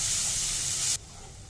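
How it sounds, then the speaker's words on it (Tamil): Tomatoes sautéing with onions in a pan make a close, hissing sizzle that cuts off abruptly partway through, leaving a quieter background. "தக்காளியை சேர்த்த பிறகு நல்லா கொஞ்சம் நேரம் வதக்கட்டும்"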